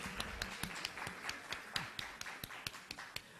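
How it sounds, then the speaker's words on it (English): Sparse, quiet claps from a small audience at a women's running event in Dubai, greeting a visiting athletics federation president with a dozen or so distinct, separate hand claps in an irregular rhythm. "Can we have a big round of applause for him?"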